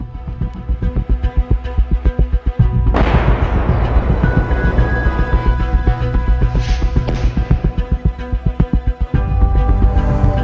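Artillery fire near Ukrainian trenches, with a sudden loud blast and rushing roar amid a steady throbbing, pulsing low rumble that continues close and heavy throughout.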